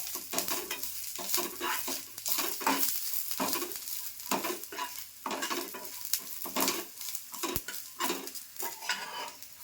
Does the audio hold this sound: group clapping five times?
no